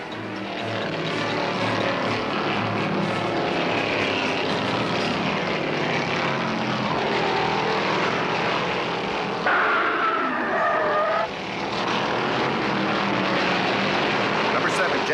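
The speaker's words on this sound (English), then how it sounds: "Number 7, Jack McCoy pushes his Dodge Charger a little too hard through the turn and spins it out" Loud engine roar of 1971 NASCAR stock cars racing at Riverside, including a Dodge Charger spinning out, with a continuous roar and a brief shift in tone midway.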